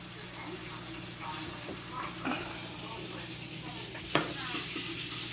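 A steak sears in a hot pan, giving a steady broadband sizzle that runs throughout with a few brief clicks of utensil handling. Faint speech-like sounds occur beneath the frying.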